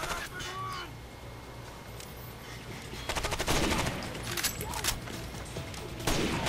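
Gunfire crackles through a Rainbow Six Vegas 2 firefight, scattered shots giving way to a louder burst of rapid automatic fire midway, with faint game noise in the background.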